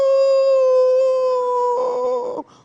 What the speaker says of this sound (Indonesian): Tadi waktu suara azan berkumandang, terdengar suara anjing melolong.